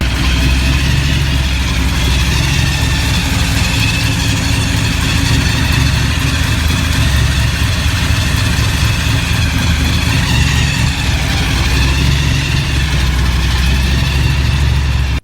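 A 1972 Chevrolet Chevelle street build with a 454 big block and 871 blower supercharger idles loudly and steadily, a deep continuous rumble throughout.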